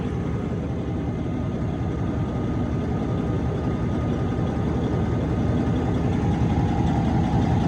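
A Cummins ISX15 truck engine runs steadily through a fuel pressure test, a continuous low, even rumble at close range with no talking over it.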